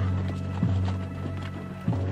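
Spanish cavalry horses charging during the conquest of the Inca Empire, heard as a few spaced hoof thuds over a steady low hum, fairly faint and without voices.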